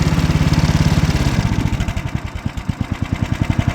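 Ariens snowblower engine idling down close by, its fast even chugging slowing into a looser, lower, distinctly pulsed putter toward almost nothing.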